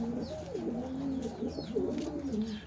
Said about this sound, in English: Newly hatched pigeons.